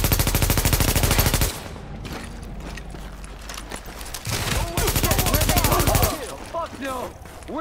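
Rapid automatic gunfire in the video game The Division, loud and evenly pulsed in long bursts with brief gaps between, while voices speak over the later bursts.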